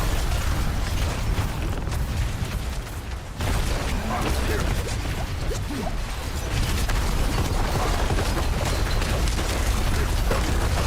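Loud explosion effects in the video game Diablo IV, a dense rumbling blast and crash that fills the whole stretch with heavy, continuous booming over game noise.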